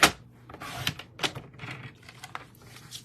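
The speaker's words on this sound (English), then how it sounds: "We're gonna take a piece of this Granny Apple Green, and we are gonna cut this at 5 1/4" Granny Apple Green cardstock is sliced on a paper trimmer, a series of short crisp clicks and scraping strokes, close and fairly quiet, with no talking.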